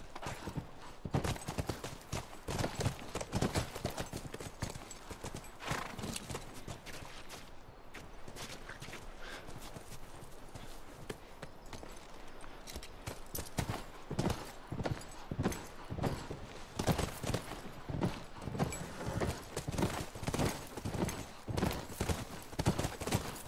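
Horses' hooves clop steadily and rhythmically on the ground in The Last of Us Remastered video game, close and continuous throughout, with a possible brief whinny.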